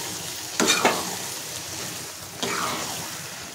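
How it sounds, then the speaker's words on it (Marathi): Cooked vegetables being sautéed and stirred into masala in a pan, a steady frying sizzle with two distinct scraping stirs of the spoon, no talking. "व्यवस्थित परतून घ्यायचे।"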